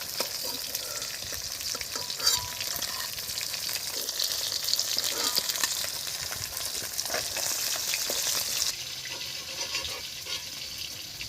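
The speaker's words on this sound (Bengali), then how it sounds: "মাছ ভাজা হয়ে গেছে, তুলে নেব।" Pond-raised catla or rupchanda fish frying in hot oil, a continuous close sizzle with occasional crackles and utensil scrapes, steady throughout before easing slightly near the end.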